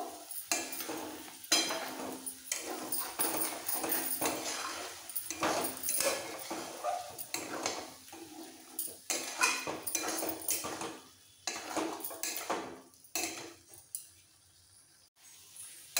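Soybean masala being stir-fried in a pan for spicy soyabean kosa, heard as repeated clinks and scrapes of a spatula against metal over a low sizzle, close, with no talking.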